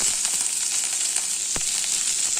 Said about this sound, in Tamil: வெங்காயமும் ஒரு கொத்து கருவேப்பிலையும் போட்டுக்கலாம்.